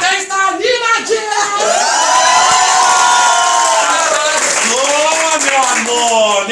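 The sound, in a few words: lively party audience cheering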